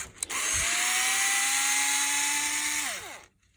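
A power screwdriver whirs steadily for about three seconds, removing the standard screws from a racing mount kit, then winds down; close and alone.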